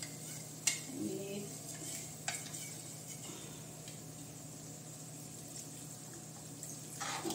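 Gobi Manchurian stirred in a pan, a quiet background sizzle broken by a few sharp spoon-on-pan clinks and scrapes, faint and close.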